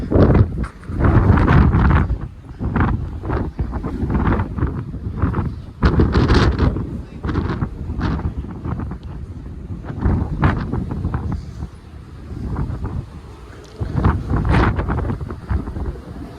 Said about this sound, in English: A lot of wind. I can feel the ship moving.